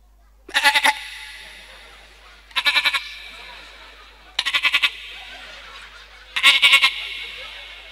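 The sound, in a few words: man imitating a young goat bleating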